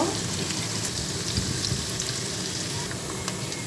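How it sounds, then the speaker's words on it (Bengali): Chopped onion with cinnamon and cardamom fries in a pan for a homestyle echor kalia, a dense, constant crackling sizzle up close with scattered pops and no voices. "ফার্স্টে আমি একটি প্যানে পেঁয়াজ কুচি এবং দারচিনি এলাচ দিয়ে দিলাম।"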